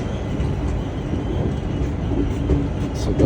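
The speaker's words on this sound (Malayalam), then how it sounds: "അപ്പോൾ നമ്മുടെ ട്രെയിൻ അങ്ങ് സ്റ്റാർട്ടായിട്ടുണ്ട്." A train pulls away from Thampanoor railway station in Trivandrum, a steady loud rumble of wheels and carriages rolling on the rails, continuous throughout with no voices.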